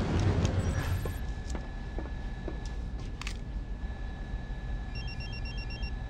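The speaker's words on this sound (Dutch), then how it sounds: "Oh, telefoon." A telephone rings in the James Bond Blood Stone video game. Short electronic ring pulses repeat near the end over a low, rumbling game background.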